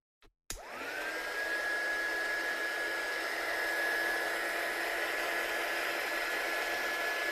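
A handheld heat tool blasts hot air to dry ink on a handmade card, starting with a click and then roaring as a steady close whoosh with a rising whine that settles into a constant tone.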